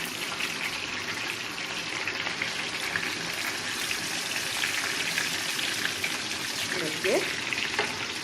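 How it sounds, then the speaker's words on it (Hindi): Fish frying in oil over a slow fire, a steady soft sizzle and crackle running evenly throughout at moderate level, with a brief stir or spatter near the end and a single spoken word. "इसमें जब भी आप मच्छी डालेंगे तेल में, तब आप इसको स्लो फायर में रख देना"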